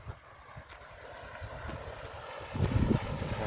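Water gushes steadily from a pump driven by a walking tractor's RT100 engine at high throttle, a low motor rumble beneath a constant rushing flow that swells slightly near the end.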